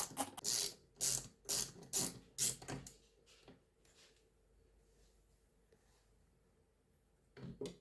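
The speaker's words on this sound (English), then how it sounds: "Just 3 screws out, tilt the motor plate, and belt is removed." Motor plate screws being worked out of a Yamaha MT44 four-track cassette recorder, a quick run of close, rhythmic ratcheting clicks from a screwdriver, then near quiet with a final burst of clicks at the end.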